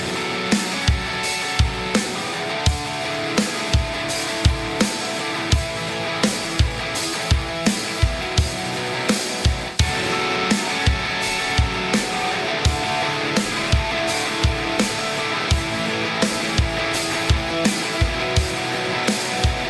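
Electric guitar played direct in through Bias FX 2 amp software, a steady rhythmic part with regular strummed accents over about twenty seconds, loud and alone without any talking.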